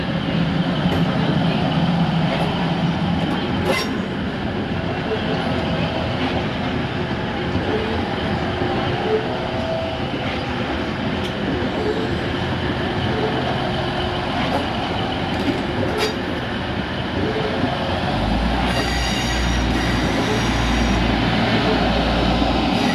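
A TransPennine Express Class 185 diesel train departs Doncaster station with a loud, steady engine rumble and rolling rail noise close by, and a deeper throb near the end.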